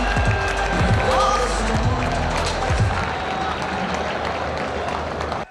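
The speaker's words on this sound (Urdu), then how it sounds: "تالیوں سے استقبال کیا جائے وزیر اعلیٰ پنجاب محترمہ مریم نواز شریف صاحبہ کا" Applause from a crowd welcomes Punjab Chief Minister Maryam Nawaz Sharif at the launch event of a mass transit system, a steady, dense clapping roar that holds throughout.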